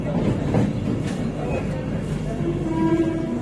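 A Vande Bharat Express train runs on the Aluabari route, giving a steady low rumble and wheel clatter, heard from close by with a voice talking over it.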